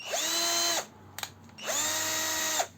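Ronix cordless drill-driver, fitted with a metal chuck and a battery pack, whirs in two steady bursts of just under a second each, close and clear, each one spinning up and then winding down.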